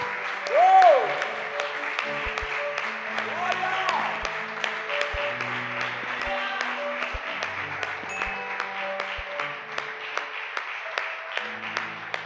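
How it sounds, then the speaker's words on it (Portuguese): Congregation applauding during an evening church worship service, a steady mass of clapping that fills the room throughout, with a brief sung or voiced tone near the start and occasional low thumps beneath. "Aplauda o Senhor nesta noite"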